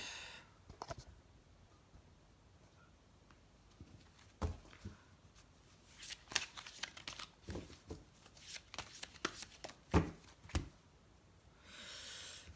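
Tarot cards are shuffled, handled and laid out at close range: quiet papery rustles, soft slaps and brushing strokes in uneven clusters, with a longer shuffling flurry near the end.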